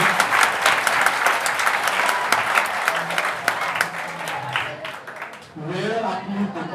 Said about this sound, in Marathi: एकदा जोरात टाळ्या झाल्या पाहिजेत